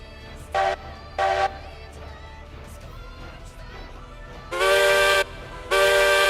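A coal-fired live steam locomotive sounds its whistle, two short toots followed by two long, loud blasts, over quiet background rumble.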